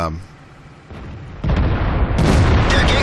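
Shell striking Super Pershing armour in World of Tanks, a loud booming shot followed by a heavy metallic impact and rumbling battle noise, close and forceful.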